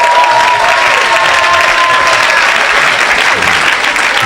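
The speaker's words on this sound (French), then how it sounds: "Donne les acclamations à Jésus-Christ" A church congregation applauds Jesus Christ with loud, dense, continuous clapping from a large crowd that fills the room steadily without a break.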